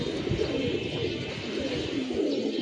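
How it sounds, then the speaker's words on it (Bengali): Young pigeons lift off from a loft, their wingbeats fluttering steadily close by for a few seconds, with soft cooing mixed in. "মাশাল্লাহ, কবুতরগুলো উঠতেছে, উড়ুক।"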